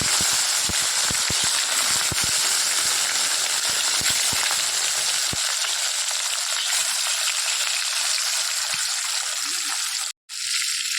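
Fish sizzling steadily in hot oil in a home kitchen pan, a dense continuous crackle with scattered pops, fairly close and loud, briefly cut off near the end.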